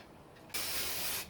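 Glue spray can for motorcycle repair work releases a loud, steady aerosol hiss that starts abruptly and holds for under a second before tapering off, close to the microphone with no talk.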